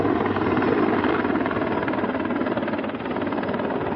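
A Russian Mi-10 heavy-lift helicopter, its rotor and engine roar dense and continuous with a rapid thudding pulse, loud and steady throughout.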